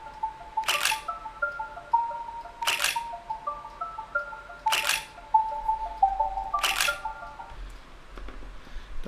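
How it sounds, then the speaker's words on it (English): Camera shutter clicks sound four times at roughly even intervals of about two seconds, crisp and close, with faint electronic beeping tones in between. "I just want to make sure those shutter clicks are lining up with the..."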